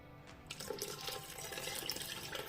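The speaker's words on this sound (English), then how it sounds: "And I will add my broth." Broth is poured into a pot of goat meat stew, a soft continuous splashing trickle of liquid heard close but quietly over about two and a half seconds, without speech.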